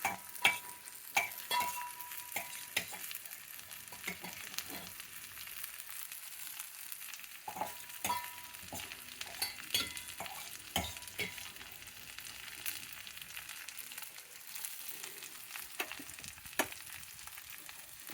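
Cluster beans frying with softened onions in a pan, a soft steady sizzle broken by repeated scraping stirs of a spatula, close and fairly quiet, with no voices.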